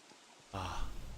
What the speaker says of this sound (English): The rain ambience is kind of nice in this game.